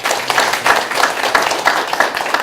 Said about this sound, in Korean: 한번 박수 좀 한번 크게 좀 한번 쳐주십시오